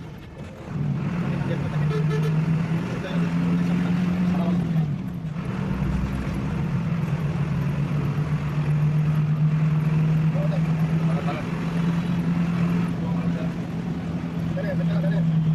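A Marsa Transport bus cruising on the Chittagong–Dhaka highway, its engine droning steadily with a sustained low hum, heard from inside the cabin while people talk over it.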